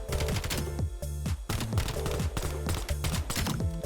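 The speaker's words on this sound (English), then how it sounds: "let's take this beast into the firing range and just show you how crazy this gun is" Fast, continuous automatic gunfire from a weapon at the firing range in Black Ops 7, a loud rattling stream of shots with short pauses between bursts.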